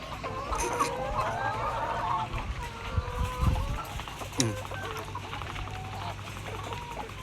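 Chickens on a small farm of around 300 birds cluck and squawk close by in scattered bursts over a low background rumble, with a person's voice briefly audible amid the birds.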